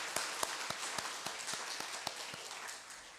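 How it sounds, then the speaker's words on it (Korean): Steady, evenly spaced hand claps at a church Sunday worship service, about a dozen sharp claps in a regular rhythm, fairly faint and without voices. "우리 손뼉 한번 하겠습니다."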